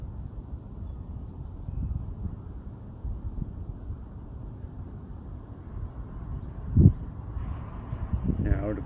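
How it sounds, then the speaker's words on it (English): Wind buffets the microphone of a DJI Avata FPV drone in a low, uneven rumble, with a brief stronger gust near the end. "It's a little bit windy out here."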